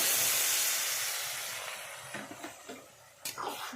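Water splashes into a hot pan of spinach and shrimp and raises a loud, broad hiss of steam that slowly dies away, followed by a few soft clinks and taps.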